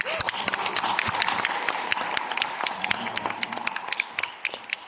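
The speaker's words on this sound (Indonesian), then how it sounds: "Jadi mari kita tepuk tangan sekali." Audience applause at an investor seminar on AI for stock investors, a dense patter of many hands clapping steadily throughout at moderate loudness, with scattered sharper claps standing out.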